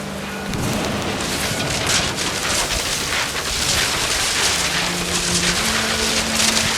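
Heavy rain pours down in the What Remains of Edith Finch video game, a loud, steady wash of downpour with no break, joined by faint low tones.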